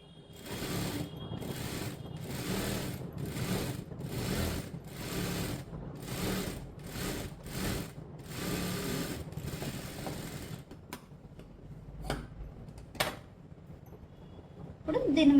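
A sewing machine stitches the neckline of a blouse, its needle mechanism clattering in rapid repeated bursts that stop and start, with someone speaking over it.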